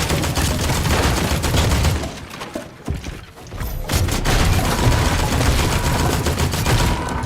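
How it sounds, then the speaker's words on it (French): Rapid gunfire and bursts of weapon fire in the arena shooter Unreal, loud and dense throughout with a brief lull midway before shooting resumes, no voices. "il tire à travers mon mur"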